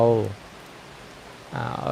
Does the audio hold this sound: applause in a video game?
no